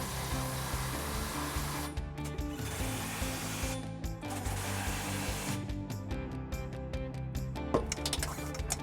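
A 21mm impact wrench drives trailer hitch bolts on a 2014 Dodge Durango during a U-Haul hitch install: loud, close whirring with rapid hammering rattles in repeated bursts and short pauses.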